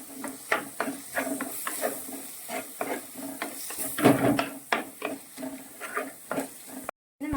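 Sardines with a half spoon of chilli powder sautéing in a pan, giving a steady sizzle and hiss with a run of regular stirring scrapes close by, no talk.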